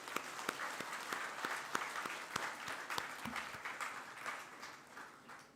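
Audience at a school's 25th anniversary felicitation ceremony applauds steadily, a dense wash of many hands clapping with a few sharper individual claps standing out, sustained at moderate level throughout.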